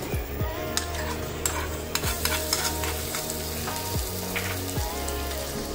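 Ginger garlic paste sizzling in a few spoonfuls of hot oil, a dense steady crackle up close, with periodic stirring strokes and a low humming tone beneath.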